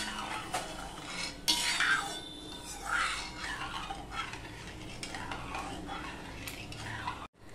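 A spoon swirls and clinks in a pot as sugar is stirred into water with salt and turmeric, repeated close scrapes and taps over several seconds with no talk.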